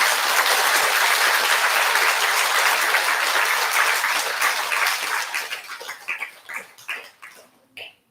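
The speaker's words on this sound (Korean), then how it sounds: "큰 박수 한번 부탁드립니다" A crowd at a Buddha's Birthday celebration dharma service claps loudly and steadily, then the applause thins into scattered claps and dies away.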